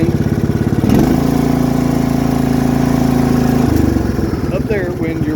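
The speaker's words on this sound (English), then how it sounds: "you just started your mower. And always have it low idle" A riding lawn mower engine runs at low idle, a steady close-up putter with a strong low hum that rises briefly in the middle before settling back. A voice talks over it.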